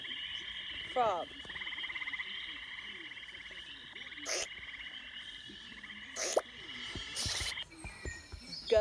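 A frog croaks in a steady pulsing trill over a quiet outdoor background. A few brief sharp clicks come through, and there is no talking.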